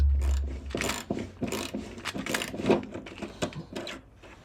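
A ratchet undoes 10mm screws on the front fender of a Mercedes R107, with close, irregular clicking bursts of the pawl mixed with a few knocks, heard without speech.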